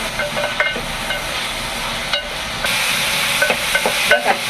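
Tomatoes and eggplant being sautéed in a pan for sambar, with a steady sizzle and hiss broken by scattered scraping stirs, close and fairly loud, with no talking.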